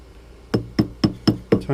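A rubber mallet tapping a metal ring being sized down on a small work surface, five sharp evenly spaced knocks about a quarter second apart, close and fairly loud against near silence.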